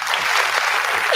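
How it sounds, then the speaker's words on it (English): Hands clapping at a picnic-style gathering, a steady dense patter of claps running continuously and fairly loud throughout, with no talk over it. "clapping hands."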